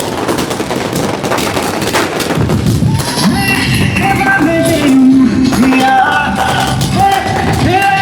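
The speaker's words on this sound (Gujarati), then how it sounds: "ફટાકડા ફટાકડાની મોજ" Firecrackers go off during a street celebration of an India cricket win in Rajkot. Loud, rapid bursts and crackling pops fill the clip, with whistling rockets and crowd noise mixed in.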